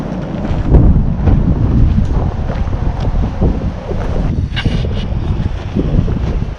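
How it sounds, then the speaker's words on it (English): Loud, close wind buffeting hits the microphone in continuous rumbling gusts, with no voices, at Crow Butte Park. "Wind block because it's windy here today"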